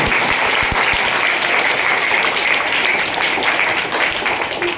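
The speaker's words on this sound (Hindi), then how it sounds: "जोरदार तालियां" Loud, dense applause from an audience at a school nutrition-campaign event, steady throughout with a few sharp claps standing out near the start.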